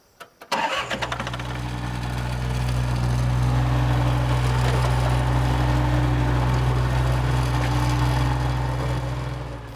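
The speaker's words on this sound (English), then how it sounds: "All right, onto the tractor. We use biofuel here" A tractor engine running on biofuel made from grease cranks with a few quick chugs, catches and settles into a loud, steady, rumbling idle close by.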